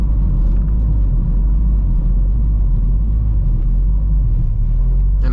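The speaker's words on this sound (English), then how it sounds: "the sounds this car make, the turbo, the wastegate, the gears," Turbocharged 600 HP Honda Civic Si with a wastegate, heard as a loud, steady low engine rumble from inside the car, with no talk over it.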